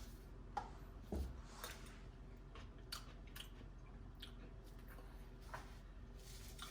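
Someone takes a bite of a quinoa salad dressed with extra virgin olive oil, salt and pepper, chewing softly and close up with a few faint crunches in an otherwise quiet kitchen.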